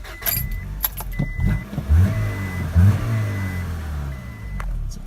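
A Honda Accord with an oil-burning engine revs up in short bursts, the mid-pitched engine rising and falling close by, with a faint jingle of keys and no talking.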